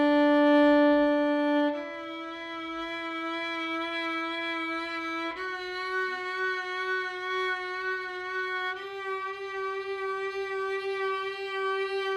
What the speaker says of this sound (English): the more medium speed might sound like this